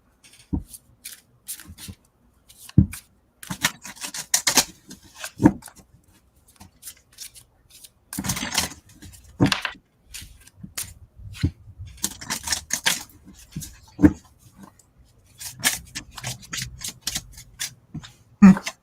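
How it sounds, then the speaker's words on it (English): A deck of reading cards is shuffled by hand in a quiet room, a string of sharp riffling and flicking bursts with short pauses between them, close and fairly loud, with faint talk now and then. "I just picked this deck up and started shuffling it"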